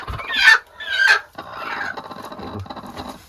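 A crossbred hen being settled onto a clutch of eggs gives two loud, close squawking clucks, followed by softer, continuous murmuring clucks and faint rustling.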